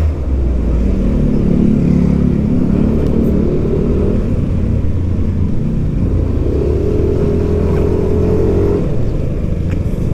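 A Yamaha Aerox 155 scooter engine hums while being ridden, a loud steady drone with a low rumble and a couple of faint rising whines, heard continuously without talk.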